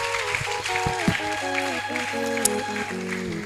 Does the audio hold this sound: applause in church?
yes